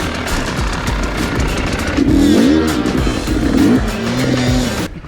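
Motorcycle engine revving and straining on a rider training course, a loud, continuous close drone with rising and falling pitch and a rough idle underneath.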